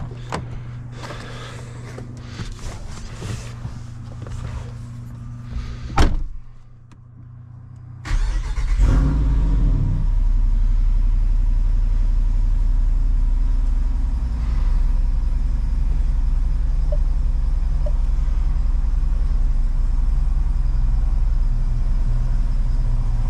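A Jeep Wrangler 392 engine cranks and fires with a loud burst, then settles into a steady, deep idle rumble that continues close by, after a quieter stretch of rattling and switching sounds.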